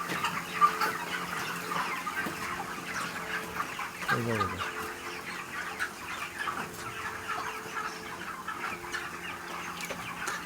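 Chickens on a raised poultry platform cluck and chatter continuously nearby, a busy flock with overlapping calls. A voice speaks briefly among them.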